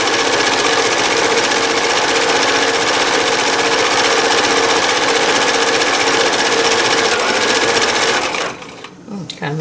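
A Husqvarna Viking 980 sewing machine sews a straight stitch, a loud close continuous whirring drone that stops near the end, followed by a brief voice.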